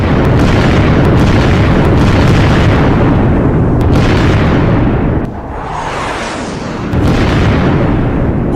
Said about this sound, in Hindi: अमेरिकी सेना ने देखिए धमाके करने शुरू किए